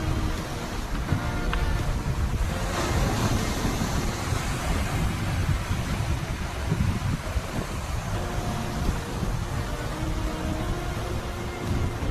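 Water pours steadily through the Kali Bawang dam on the Progo River, a loud, continuous broadband rush with a low rumble that holds at an even level throughout, with no voices.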